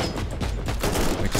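Sustained automatic gunfire from an autogun relic weapon in the action RPG Warhammer 40,000: Inquisitor - Martyr, a dense, continuous burst of rapid shots at steady loudness throughout.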